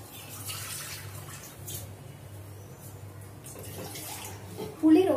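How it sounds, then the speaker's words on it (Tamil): Water pours and splashes continuously into a pot, a soft steady trickle with a louder splash near the end. "நான் தண்ணி கொஞ்சம் சேர்த்துக்கிறேன்"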